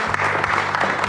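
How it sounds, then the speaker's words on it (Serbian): Studio audience at a TV Pink magazine show breaking into applause, a dense, steady wash of clapping that fills the short moment, with a low hum underneath. "Jedan aplauz za nju"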